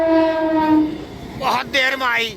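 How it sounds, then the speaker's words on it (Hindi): A loud, sustained passenger train horn blows for about a second, then a person speaks over the fading rumble of the train. "हॉर्न की आवाज़ आ रही है।"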